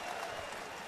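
Sarcastic applause from a college basketball crowd at a Temple versus Villanova game, a dense, steady wash of clapping filling a large arena for a brief moment.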